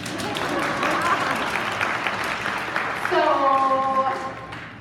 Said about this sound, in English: That's where you're supposed to clap.